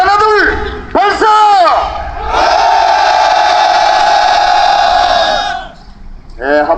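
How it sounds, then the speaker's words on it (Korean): Crowd of protest marchers on a walking march shouting a long, loud rallying cry together, preceded by a couple of short sharp shouts, with another burst starting at the end. "함성 한번 지르도록 하겠습니다"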